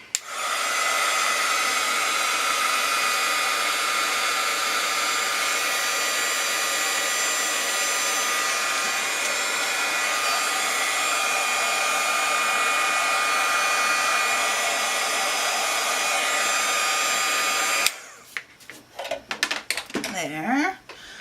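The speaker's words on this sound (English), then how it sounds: "I should probably hit this with my heat tool so that when I do the green," A heat tool blows hot air steadily over wet watercolor paint for about eighteen seconds, a loud constant whining hiss, then cuts off, leaving some light clatter of handled objects.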